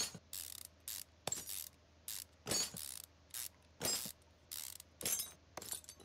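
Wheel bolts come off a car in Car Mechanic Simulator, a sharp mechanical ratcheting of an impact wrench in quick repeated bursts with short silent gaps, loud and close.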